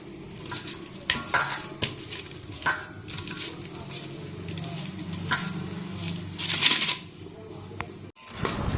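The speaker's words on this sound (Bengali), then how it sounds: "এ দেখো মাটনটা ভালো করে মানে কষিয়ে নিচ্ছি" Mutton being stirred and fried in a pan gives a soft sizzle with scraping and clattering of a spoon against the metal, while someone talks over it.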